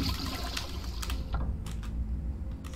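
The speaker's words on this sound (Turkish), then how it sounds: "Sifon çekti. Kim çekti sifonu?" A toilet flushes in the horror video game Granny 3, a loud rushing gurgle of water filling the short moment alone, with scattered clicks over it.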